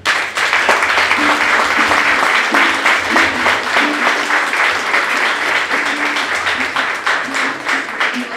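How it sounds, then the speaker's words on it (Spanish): A crowd at a quinceañera celebration gives loud, sustained applause, many hands clapping close and steady throughout while a voice speaks underneath. "Démosle un fuerte aplauso."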